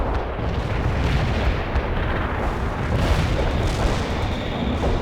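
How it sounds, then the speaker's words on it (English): A heavy artillery barrage in the real-time strategy game World in Conflict, a dense, continuous rumble of booming impacts and blasts that stays loud with no pauses and no voices. "We can deploy and lay down a heavy barrage."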